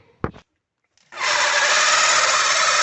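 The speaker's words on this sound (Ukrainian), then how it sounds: "трошки перфоратором, а потім сверлом по дереву сверлимо далі отвір" A drill bores through the wooden wall of a house, starting with a brief knock and pause, then a loud, steady, close whine that runs unbroken to the end with no talk.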